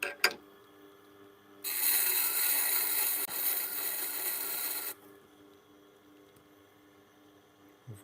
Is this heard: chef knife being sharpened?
yes